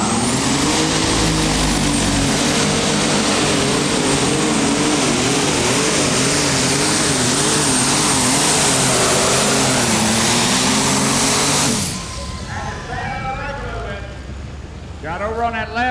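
Roaring engine of the D21 High Strung pulling tractor, entered by an AGCO dealer, during a tractor pulling competition run: a loud, sustained high-revving drone with wavering pitch that suddenly cuts off near the end, leaving quieter background noise and voices.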